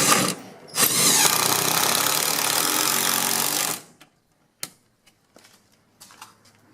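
Power drill driving screws into a left-side bracket for an electric fireplace installation, a steady loud whir lasting about three seconds after a brief first burst, then stopping, followed by a few small clicks and handling knocks.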